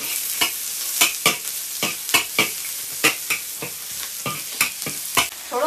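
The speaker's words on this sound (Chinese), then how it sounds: "来一个爆炒油麦菜。" Youmaicai lettuce stir-fried hard in a big wok, with a quick irregular run of sharp scraping and tossing strokes over a steady sizzle, close and with no talk.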